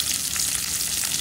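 Green chillies sizzle in a pan with kachki fish, a steady, dense frying hiss running loud and unbroken for the whole moment with no voices.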